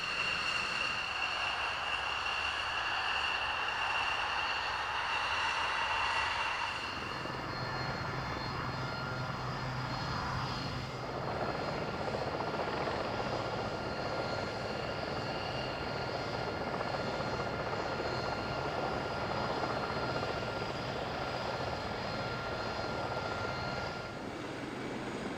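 Aircraft engines at a 1999 British airshow, where a Spitfire and a Yak-11 fly by, make a loud sustained drone with a roaring propeller tone that shifts partway through and holds steady, heard outdoors without talk.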